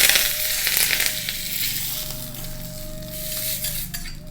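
Mustard seeds, urad and chana dal and curry leaves crackling in hot oil, a loud continuous sizzle with dense popping and a faint metallic whine running through it.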